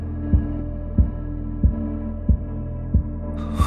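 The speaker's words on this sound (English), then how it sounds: "I could feel the fast bump of a heartbeat vibrating through the wood." A fast heartbeat thumps through a wooden floor, a steady run of about six deep, muffled beats over a low hum with no talking.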